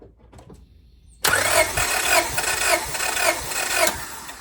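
A Honda Civic engine cranks during a compression test, rising suddenly from near silence into a loud, steady rhythmic whirring of the starter with repeated compression pulses, close by.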